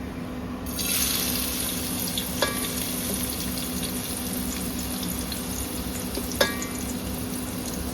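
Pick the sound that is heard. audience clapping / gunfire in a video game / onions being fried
onions being fried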